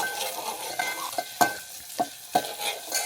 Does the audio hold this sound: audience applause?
no